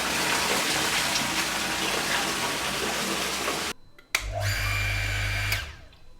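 A household water pump in Mongolia fills the house tanks with a loud, steady rush of flowing water that suddenly cuts out, then a deep motor hum with a thin whine runs briefly before stopping.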